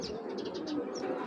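Giribaz pigeons coo softly nearby in a short run of low rolling calls over faint background noise.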